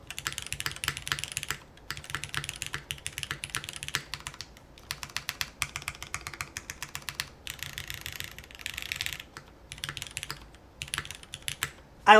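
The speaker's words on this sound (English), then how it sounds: "let me just type one more time here." Keys clack on a TOFU TKL top-mount mechanical keyboard in quick rhythmic bursts with short pauses, close-miked and crisp, with no speech over the typing.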